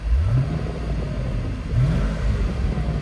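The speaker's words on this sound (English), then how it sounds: "Do a little rev." A car engine revs twice, each rise swelling briefly above a steady, close idle rumble before settling back down.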